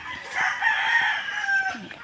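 A rooster crows loudly and close by while hens cluck softly underneath, with no talking.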